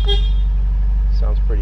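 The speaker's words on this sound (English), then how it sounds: "There's his horn, of course." A 1956 oval-window Volkswagen Beetle horn gives a short toot at the start, close and fairly loud, over the steady low rumble of the idling engine.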